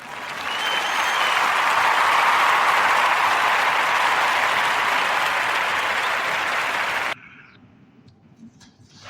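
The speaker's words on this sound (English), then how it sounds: "So join me in giving these two articles a warm narrative podcast round of applause." A loud, dense wash of applause builds over the first seconds, holds steady, then cuts off abruptly into near silence with faint trailing sounds.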